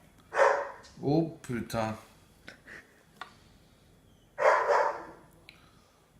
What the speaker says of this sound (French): vous entendez le chien qui est derrière